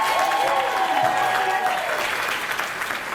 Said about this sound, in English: Give Lisa a huge round of applause.